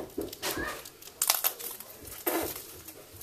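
Plastic packaging on a Pokemon trainer box is torn and crinkled open close by, in loud bursts of ripping and crackling with short pauses between them, and no speech.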